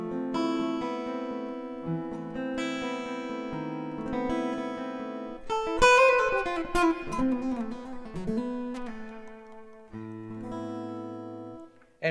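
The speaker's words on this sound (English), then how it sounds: "now I'm going to introduce some reverb on this guitar" An acoustic guitar with built-in reverb is strummed and picked alone, chords ringing out with a long wash of echo trailing each stroke and a few brief pauses between phrases.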